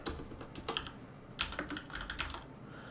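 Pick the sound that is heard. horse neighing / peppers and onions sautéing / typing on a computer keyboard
typing on a computer keyboard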